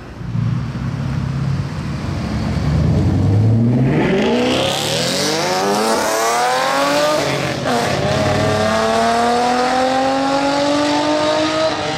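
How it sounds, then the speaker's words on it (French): A BMW M3 G80 with a very loud exhaust launches and accelerates hard, its engine note climbing steeply through the gears and staying loud and close, with brief tire squeal at the start. "c'était des départs bruyants"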